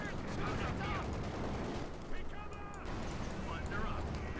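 Bursts of machine gun fire rattle through a Company of Heroes 2 battle between Wehrmacht and US Forces, mixed with other combat noise under continuous commentary.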